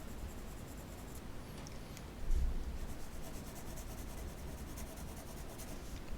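Graphite pencil scratching across paper during a home or studio sketch, a steady close, dry scraping with small rhythmic strokes and one brief heavier press midway.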